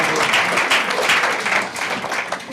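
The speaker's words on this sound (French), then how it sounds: "Tout le monde applaudit." Dense, steady applause from an audience at a 2014 academic prize ceremony for thesis awards, a continuous roar of many hands clapping at even loudness throughout.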